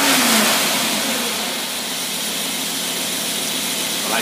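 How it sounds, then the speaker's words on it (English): A six-cylinder marine boat engine with a rebuilt Carter AFB carburetor revs hard, then holds a loud, steady high roar close by with no talk. "You don't have no trouble now on that little old six-cylinder motor."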